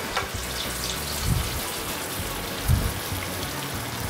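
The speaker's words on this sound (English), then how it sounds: "We are cooking our world-famous potato pancakes." Potato pancakes frying in a German restaurant kitchen give a steady, rain-like sizzle and crackle that carries on alone, with two brief louder bursts.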